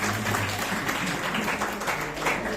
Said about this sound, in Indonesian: Pertanyaan yang bagus, tepuk tangan dong.